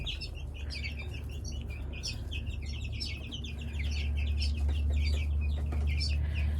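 Young chickens cluck and peep continuously inside the feed room of a chicken coop, a dense chorus of overlapping chirps over a steady low hum that grows slightly louder near the end.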